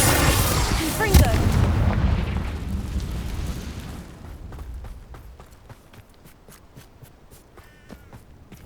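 A Confringo fire spell bursts in Hogwarts Legacy, a loud roaring blast that fades over a few seconds into crackling debris and quick footsteps, close and forceful.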